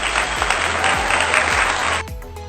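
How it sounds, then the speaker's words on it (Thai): Claps in a Thai primary-school math lesson on comparing numbers, a short burst of dense clapping over a low steady tone, cutting off abruptly after about two seconds. "ปรบมือให้ตัวเองครับ"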